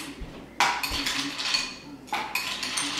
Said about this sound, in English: So I want to add some ice.